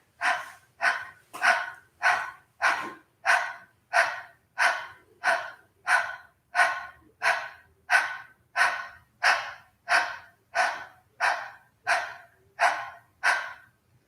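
Gentle rhythmic panting during a yoga core exercise, about seventeen short, even breaths repeated at a steady pace, close and clear with no talking.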